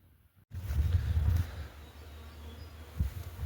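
Honey bees buzz around hives at an apiary during a move to buckwheat fields. A low, steady hum rises suddenly, then continues at moderate loudness with a brief swell near the end, and no one speaks.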